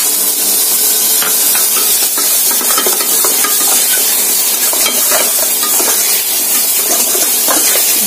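Tomatoes and green chillies sizzle loudly in hot oil for tandoori Maggi, a dense steady frying hiss with occasional stirring scrapes, close and continuous without speech.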